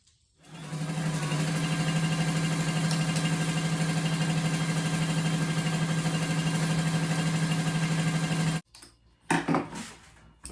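An electric sewing machine hemming fabric edges runs as a loud, steady, close motor drone with a fast mechanical chatter for about eight seconds, then stops abruptly, followed by a few handling knocks.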